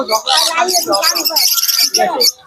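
A group of red sun conures screech and chatter loudly and close by in harsh, overlapping bursts, with people talking underneath.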